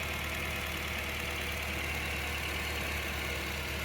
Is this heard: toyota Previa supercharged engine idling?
yes